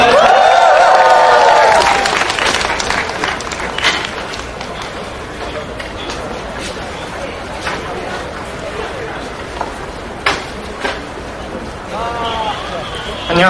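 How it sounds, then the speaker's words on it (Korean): Crowd at an outdoor anti-FTA protest rally in Korea clapping and cheering, loud at first, then dropping to a rustling, murmuring crowd with scattered claps and shouts, with a voice speaking over a loudspeaker near the start and again at the end. "힘찬 박수 부탁드리겠습니다"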